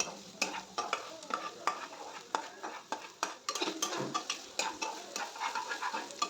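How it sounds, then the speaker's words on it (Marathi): Finely chopped onion frying in a pan while being stirred, with a quiet sizzle under a busy run of close scraping and tapping strokes of a spoon against the pan. "असा मस्त बारीक चिरून टाकायचा आहे आणि मस्त परतून घ्यायचा।"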